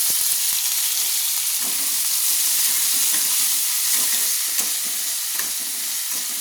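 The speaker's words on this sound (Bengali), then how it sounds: "দিয়ে ভালো করে নেড়ে নিচ্ছি। তো একটু হালকা হালকা করে আমি ভেজে নেব" Chopped onions stir-fried in a pan for a Bengali barbati aloo dish, a steady broadband sizzle with frequent scraping strokes of the spatula throughout, close and continuous.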